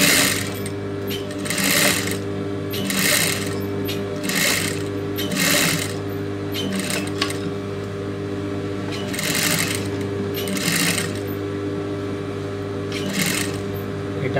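Sewing machine stitching a lace neck design blouse, running in repeated bursts of rapid stitching separated by short pauses, close and steady over a low motor hum.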